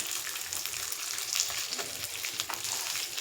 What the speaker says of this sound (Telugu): కొంచెం ఇది లైట్ బ్రౌన్ కలర్ వచ్చేదాకా ఫ్రై చేసేసుకొని ఇవి తీసేసుకోవచ్చు.